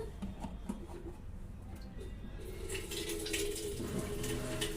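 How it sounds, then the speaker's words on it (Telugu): Tap water runs steadily into an electric kettle in a home kitchen, a continuous near splash that grows slightly louder and brighter toward the end, with faint background noise. "కొంచెం వాటర్ పట్టుకుంటున్నాను ఇంకా ఇలాగా మూత వేసుకుంటున్నాను"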